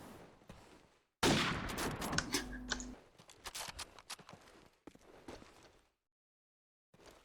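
A burst of gunfire in a competitive online shooter match, a dense loud volley at first followed by scattered, fainter shots and clatter that drop to silence near the end.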